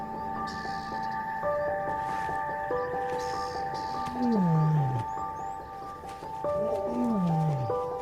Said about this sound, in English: But a familiar sound cuts through the still morning air. It's Mohawk.